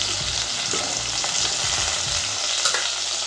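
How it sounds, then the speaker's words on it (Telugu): Onion, green chillies and carrot fry in a pan for a cauliflower mixed-vegetable curry, with a loud close steady sizzle and repeated scraping stirs and utensil taps, and no voices. "ఇవైతే మంచిగా ఫ్రై కానివ్వండి ఉల్లిగడ్డ పచ్చిమిరపకాయలు అయితే క్యారెట్ వేగిపోయినాయి"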